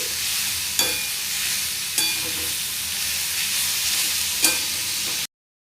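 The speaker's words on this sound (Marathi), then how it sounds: "व्यवस्थित परतून घ्यायचं आहे" Broad bean pods (ghevda) sauté with salt in a pan, giving a constant bright hiss and sizzle broken by a few sharp clicks of a spatula against the metal, then ending abruptly.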